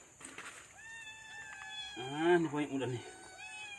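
A sick pet cat meows repeatedly, clear and close, with a longer strained caterwaul in the middle, while someone speaks Malay over and between the calls.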